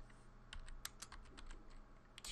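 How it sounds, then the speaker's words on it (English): Rapid typing on a computer keyboard, a run of crisp clicks and key taps in an uneven rhythm, fairly close and moderately quiet with a faint room hum underneath, no voices. "That's coherent typing."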